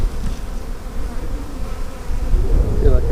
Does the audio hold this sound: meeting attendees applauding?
no